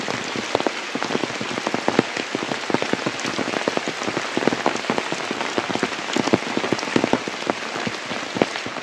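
Steady rain pattering on a surface in Tivare village, Maharashtra, with dense, irregular drops close by and no voices, continuing evenly throughout.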